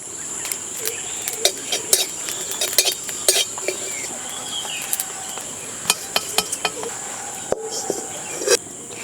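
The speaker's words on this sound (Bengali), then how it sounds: "শুকনো খোলায় জিরে ভেজে নেব।" Cumin seeds dry-roast in an empty pan, with a spatula scraping and tapping against the metal in irregular clinks over a faint steady crackle, close and alone.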